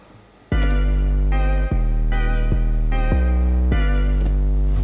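An 808 bass line plays under a bright synth melody, the deep sustained bass gliding between notes in step with the repeating melodic phrases, loud and full.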